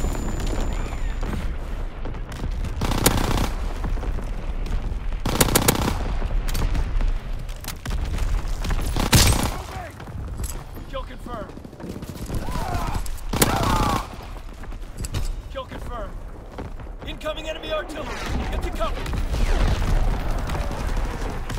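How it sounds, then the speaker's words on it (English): Repeated heavy blasts and bursts of gunfire from incoming enemy artillery in the World War II shooter game Call of Duty WWII, loud booms recurring every few seconds amid continuous battlefield rumble and scattered shots. "Coming enemy artillery! Get to cover!"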